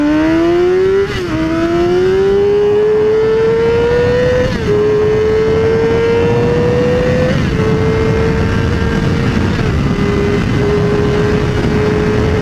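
A 600cc Yamaha R6 sport motorcycle accelerates hard through the gears, its loud, close engine whine climbing in pitch with brief dips at each shift.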